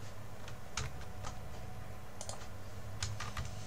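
A computer mouse clicks through Outlook in Office 365: a quiet series of sharp, irregular clicks, some in quick pairs, against a soft background hiss.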